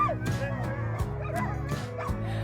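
Excited sled dogs yip, whimper and bark as the team is hitched at the start of the Iditarod in Anchorage, Alaska. The cries are close and keep coming over a constant noisy background.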